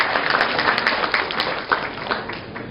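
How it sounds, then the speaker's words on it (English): A roomful of people claps to welcome a speaker at a launch event in Pokhara, Nepal, a close, lively burst of applause with distinct sharp claps that holds steady and eases slightly toward the end. "with a warm welcome and a round of applause again for Mr. Nizar Juma"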